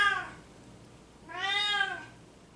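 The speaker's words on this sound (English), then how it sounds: "Obviously the cat's excited." An excited cat meows twice close by, a brief first call followed by a longer, rising and falling meow, with a quiet room in between.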